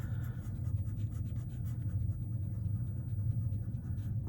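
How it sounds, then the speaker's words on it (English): A pencil eraser rubs back and forth across paper, a soft, close, continuous scrubbing with quick rhythmic strokes and no other sounds. "Okay, and I'm going to erase"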